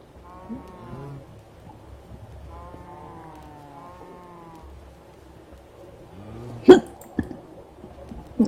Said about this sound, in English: The hiccups.